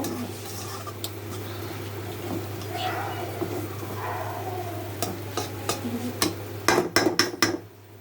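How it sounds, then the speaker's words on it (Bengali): Baila fish stirred in a pan with a spoon, steady scraping and soft sizzle over a constant low hum, with a few sharp clinks of utensil on pan near the end while someone talks. "এখন এখন মাছটা দিয়ে দিচ্ছি, দিয়ে নাড়াতে দিচ্ছি"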